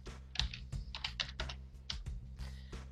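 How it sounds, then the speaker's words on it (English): Text is typed on a computer keyboard in a close, quiet burst of quick irregular keystrokes lasting about three seconds. "So I'm just gonna type in my own text,"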